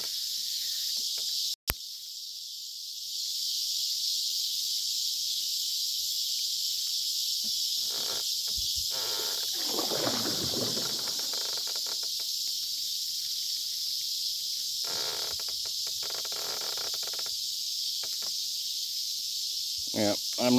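A constant high, loud cicada buzz fills a fishing spot outdoors, persisting after a sharp click near the start, with low rustling and brief sounds beneath but little other activity.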